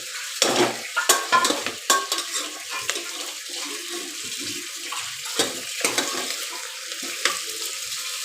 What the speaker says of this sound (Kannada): ಸ್ವಲ್ಪ ಎಣ್ಣೆನೇ ಚೆನ್ನಾಗಿ ಫ್ರೈ ಆಗಿ ಬೇಯಬೇಕು ಗೈಸ್